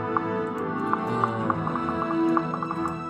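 A horse's hooves clip-clop in Fire Emblem Awakening, a steady run of light tapping hoofbeats over a sustained musical drone, close and clear with no voices.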